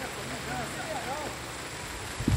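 Rain pattering steadily under a hot, sunny 40-degree sky with no clouds, a dense even hiss with faint bird-like chirps and a brief low thump at the end.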